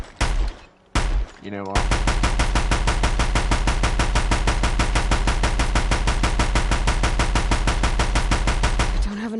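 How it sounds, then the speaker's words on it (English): Rapid automatic gunfire from the video game Horizon Zero Dawn, two short bursts, then a sustained, evenly spaced stream of loud shots for about seven seconds, ending abruptly; a voice speaks briefly just before. "Let's fire 10 bullets in honor of this game."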